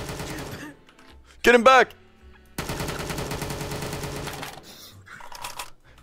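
Rapid bursts of video game gunfire in VRChat, loud and dense, with a brief gap partway through, under excited shouting voices.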